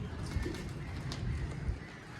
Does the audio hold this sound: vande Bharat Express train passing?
no